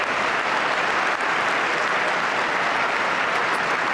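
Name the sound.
cheering and applause in the congressional chamber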